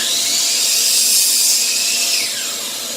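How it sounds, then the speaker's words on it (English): A power saw cuts through a 2x4 in a workshop that has a shop vac with a cyclone separator. A loud, steady high whine holds for a few seconds and then eases slightly as the cut ends, close to the listener with no talking. "right after you hear the saw cut"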